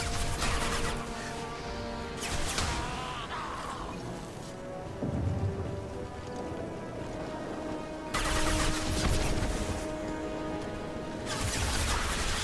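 Dense bursts of rapid gunfire from a Mass Effect 2 firefight, loud and close, with clusters of crackling shots at the start, middle and end, and quieter rumbling action in the gaps.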